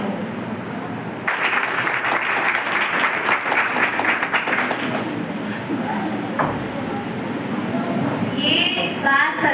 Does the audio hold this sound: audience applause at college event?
yes